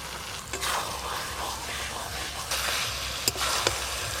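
Hilsa fish head and taro stems fry in hilsa oil with a steady, close sizzle, broken by a few sharp scrapes and knocks of stirring.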